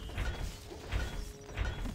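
A ballista's mechanical ratcheting and clanking repeats in short bursts in the game Stronghold: Crusader, a winding mechanism cranking roughly three times over a low rumble.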